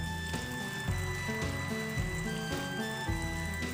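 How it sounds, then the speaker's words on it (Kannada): Chopped tomato and onion frying in oil with a pinch of salt, a steady close sizzle and crackle running continuously on its own, with a music bed playing underneath. "ಟೊಮೆಟೊ ಹಾಗೂ ಈರುಳ್ಳಿ ಎರಡೂ ಕೂಡ ಸ್ವಲ್ಪ ಚೆನ್ನಾಗಿ ಫ್ರೈ ಆಗಬೇಕು"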